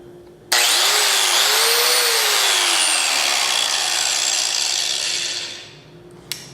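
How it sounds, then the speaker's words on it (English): Angle grinder grinding into an iPhone 6, a loud close harsh whine that starts abruptly, holds with a slight dip in pitch as it bites, then winds down, followed by a brief click. "This is a angle grinder."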